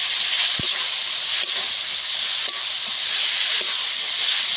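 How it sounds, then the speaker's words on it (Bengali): Cumin paste goes into spices already frying in oil for a fish curry, giving a steady, close hiss and sizzle throughout. A few faint clicks of a spoon or pan stand out. "মশলাটাকে তেল ছেড়ে দিতে শুরু করে দিয়েছি এবার জিরে বাটা দিয়ে দেবো"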